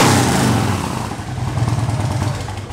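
A 2007 Harley-Davidson Electra Glide Standard with a Vance & Hines exhaust idles close by, a loud, steady, lumpy low rumble with an uneven rhythmic throb throughout.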